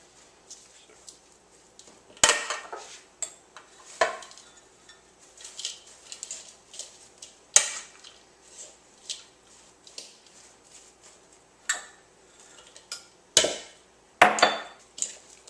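Dry muffin ingredients being stirred with coconut and raisins in a bowl, with sporadic scrapes and clinks of a utensil against the bowl over a quiet background.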